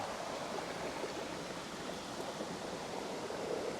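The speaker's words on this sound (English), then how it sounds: "Here we are at the main falls of Little Crystal Creek." Steady broadband rush of the main falls of Little Crystal Creek, continuous and fairly close, with no voices over it.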